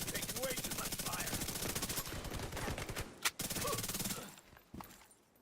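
Sustained automatic gunfire from The Division 2 video game, rapid bursts of shots running for several seconds, then a brief pause, one sharp loud shot, more firing and a final isolated crack as it fades.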